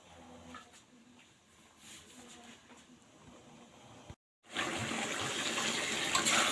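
Water pours and gushes into a cooking pan while potatoes cook with chicken gizzard, liver and skin, a steady splashing stream that grows louder and fuller after a brief pause.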